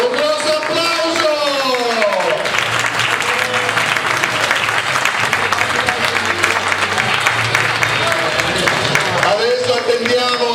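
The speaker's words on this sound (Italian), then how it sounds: "Un grosso applauso." Loud, dense crowd applause at the close of a boxing match in San Giovanni Lupatoto, sustained for about ten seconds with a steady roar of clapping, while an announcer's voice carries over it at the start and end.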